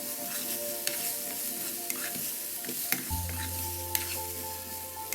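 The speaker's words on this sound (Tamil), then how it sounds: "நல்லா கலந்து விட்டுட்டு மசாலா எல்லாமே கலந்து வர மாதிரி கலந்து விட்டாச்சு" Rajma sundal is stirred with masala in a pan, a soft sizzle with scattered spoon scrapes and taps over a steady background hum, with no voices.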